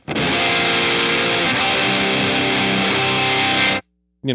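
An electric guitar plays a dense tech-death riff through a Boss Katana amp set to high-gain distortion. The tone is thick and saturated, with chugging notes sustained loudly for nearly four seconds before it cuts off abruptly.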